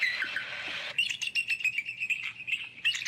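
Imitation bird calls, a person producing fake chirps: a sustained whistle-like trill followed by a rapid series of short, bright tweets repeating for a few seconds, close and fairly clear.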